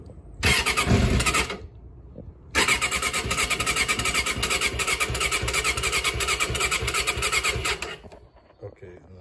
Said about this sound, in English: So the engine is cold. I'm gonna try without choke.